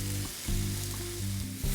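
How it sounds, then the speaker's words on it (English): Loud, continuous sizzling from peaches grilling on a hot grill, close up, with no voices. "you want to hear that sizzle"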